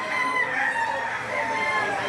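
A rooster crows loudly and close among chickens offered for sale at a rainy outdoor market, its long drawn call filling the whole stretch with no talk over it.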